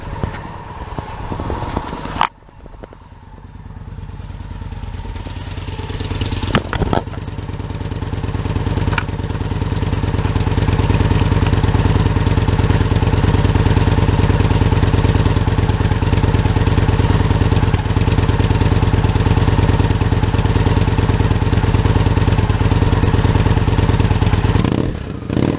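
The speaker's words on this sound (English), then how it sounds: "I'll put this microphone by the exhaust and rev it up a little bit." A 2010 Victory Vision motorcycle fitted with glass pack exhausts, recorded close to the exhaust. A few sharp blips open it before the engine rises into a loud, sustained throaty drone that holds steady to the end, with no talking.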